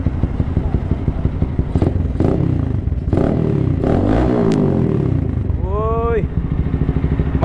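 A Yamaha GPR250 motorcycle with an upgraded gauge panel and rev boost revs loudly and continuously up close, its engine rising and falling amid people talking over it.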